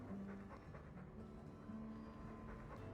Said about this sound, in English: You silly dog.